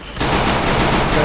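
Rapid automatic gunfire in a shooter video game bursts in after a brief pause, a loud, dense stream of shots rattling steadily to the end.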